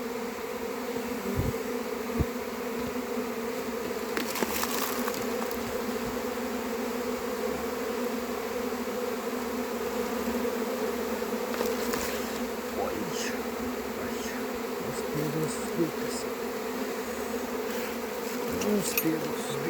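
Honeybee swarm buzzing around and settling into an empty hive outdoors, a dense, steady drone of many insects with individual bees zipping close past at moments, no voices.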